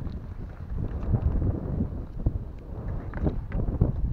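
Strong wind gusting across an outdoor pool under a parasol, a constant buffeting rumble on the microphone with irregular flaps and knocks throughout.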